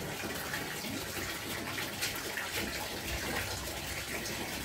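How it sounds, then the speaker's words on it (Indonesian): Water pours steadily into a container while making Jadam liquid fertilizer, a continuous close, loud gushing rush with no break. "kita tambahkan air sampai penuh"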